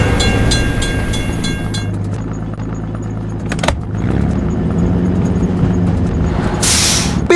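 A train rolls past a closed level crossing in a children's video game about construction vehicles, a steady loud rumble with tonal horn-like notes at the start and a brief hiss near the end.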